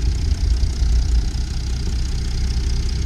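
A 2013 Mercedes E350 CDI BlueTec estate with its 3.0 V6 diesel idles steadily, a low, even rumble heard close up from the engine bay with no talk over it.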